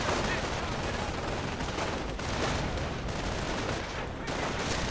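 BAR automatic fire in the Company of Heroes strategy game, a dense continuous crackle of gunfire and battle noise across a 1v1 match, steady and busy without a break.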